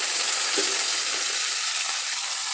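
Chopped water lily stems hitting hot oil with fried onions give a steady, close, loud sizzle that persists evenly throughout, with faint stirring in the pan.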